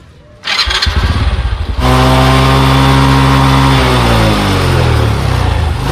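A motorcycle engine starts after a short crank and settles into a loud, steady close idle during a test run following chain lubrication, with a slight rise in revs near the end.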